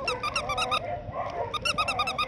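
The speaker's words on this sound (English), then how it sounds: "They're going to see what the dogs are barking at," Miniature poodle puppies and dogs yipping in high-pitched bursts, rapid clusters of sharp barks near the mic with a short pause between bouts, plus some softer whining.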